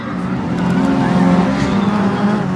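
A Suzuki Swift rallycross car roars past at close range, its engine loud and steady with a rising, rasping drone throughout.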